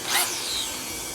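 A cordless power drill, used while working on a 1952 Harley-Davidson panhead FL, gives a brief high-pitched whirring spin-up that peaks early and then holds a steady buzzing hum for about a second, close by with no talking.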